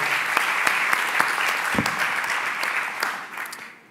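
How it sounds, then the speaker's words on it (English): Audience applause for a presenter at the Orange startup competition, a hall of clapping with a few distinct louder claps standing out near the front, gradually thinning and fading toward the end. "If you can give him a hand of applause."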